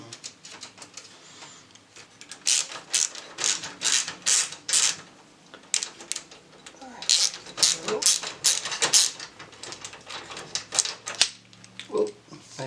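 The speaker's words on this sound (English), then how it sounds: "And we're just going to screw them in." A screwdriver drives screws into a computer case during an upgrade, giving close, rapid bursts of ratcheting clicks and scraping turns in repeated runs with short pauses between them.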